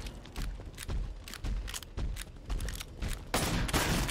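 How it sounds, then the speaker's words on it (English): Gunfire in Killing Floor 2 on the Ashwood Asylum map, a steady run of loud, evenly spaced shots about every half second that end in a longer, noisier burst. "Shooting them is almost too easy"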